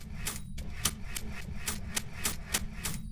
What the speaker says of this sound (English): Typewriter sounds.